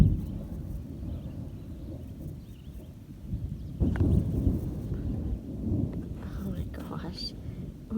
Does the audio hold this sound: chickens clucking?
no